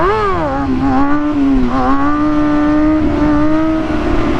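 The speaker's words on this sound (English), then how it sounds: "y'all can hear the difference in the engine as well" A car engine hums and revs steadily at close range, its pitch rising and then holding nearly level with small dips for several seconds, loud and continuous with no talking.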